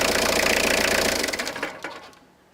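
A Renault Clio engine idles with a rapid mechanical patter, then is switched off, the running sound dying away over about a second into a few fading clicks and ticks.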